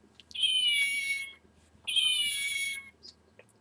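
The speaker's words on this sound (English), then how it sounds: "you can get a noise, which I got a little meow" A small toy noise maker gives two drawn-out electronic meows, each about a second long, with a short gap between them, heard close and clear with no talking.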